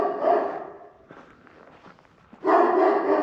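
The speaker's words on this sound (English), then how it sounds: "I wonder how long he's going to keep on barking for." Dog next door barking loudly, two close bursts of deep barks separated by a quieter pause with faint shuffling, no talk.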